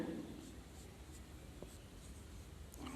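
Marker or chalk scratching on a classroom board during an eighth-grade English lesson, a steady close scraping of writing strokes with no one talking.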